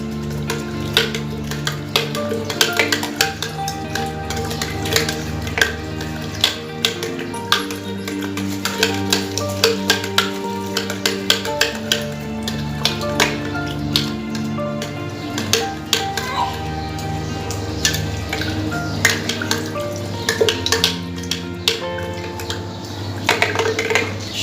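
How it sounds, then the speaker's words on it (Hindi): A spoon stirs lemon water with added chillies, honey and other ingredients, making steady clinks and swishes against a glass or jug for over twenty seconds. Soft background music plays throughout. "अब इसको अच्छी तरह से मिक्स करेंगे"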